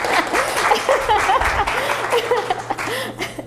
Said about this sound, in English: I do need a round of applause for that.